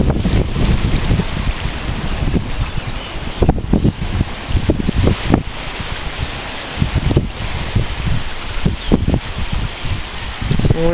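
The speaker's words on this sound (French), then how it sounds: "Juste un bon vent de sud, assez élevé, assez frais d'ailleurs." Strong, cool south wind blows across a seaside fort at Saint-Malo at low tide, buffeting the microphone in rough continuous rumbles and gusts, with a surf-like wash behind it and no talking.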